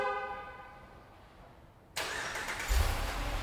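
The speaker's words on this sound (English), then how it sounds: "this truck is equipped with remote keyless entry, as well as OEM remote start" A quiet stretch of faint harmonic hum, then a 2015 Ram 2500 Power Wagon engine, started by remote start, abruptly catches and idles, followed by a deeper rumble as it settles into a steady run.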